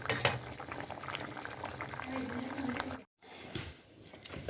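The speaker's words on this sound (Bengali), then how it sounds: "এই ঝোলটা ভালো মতো ফুটে গেছে, আর আলু তো আগেই সিদ্ধ হয়ে গেছিলো, মাছটা ভালো মতো ফুটে গেছে।" A pot of fish curry with potatoes bubbles at a steady rolling boil, close and continuous, with brief clinks of utensils and a momentary dropout partway through.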